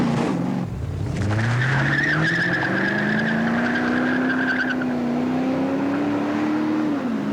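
Cars drag racing on a public street at night, loud and close: engines rev and climb through gears with a screeching tire squeal over a sustained roar that holds steady to the end.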